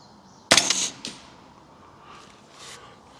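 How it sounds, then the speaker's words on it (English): A single close rifle shot from a 300 Blackout fitted with a thermal scope, one sharp loud crack that decays quickly into quiet outdoor background. "Second shot."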